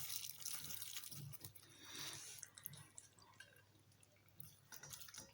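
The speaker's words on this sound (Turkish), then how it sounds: "Kaynar suyumuzu dolduruyoruz." Boiling water poured over brined grape leaves packed in a jar, a faint, continuous splashing trickle with gurgles and small drips, heard alone with no talk.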